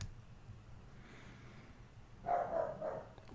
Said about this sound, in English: Why the fuck is my dog still barking?